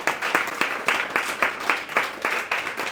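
Applause at a community college author event, a modest audience clapping in steady, fairly even rhythm at moderate level, with no talk over it.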